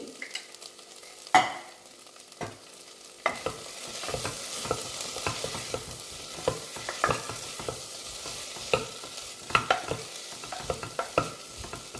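A spoon scrapes and stirs onions frying in a pan with added spices for a jackfruit curry, with a steady soft sizzle and irregular close scraping strokes throughout.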